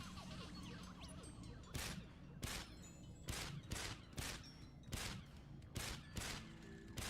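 Gunfire in the video game Sam & Max Save the World: after a noisy stretch, about eight sharp, loud shots ring out in an uneven rhythm over a steady background bed.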